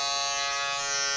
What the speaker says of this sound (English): Next up, the shaver.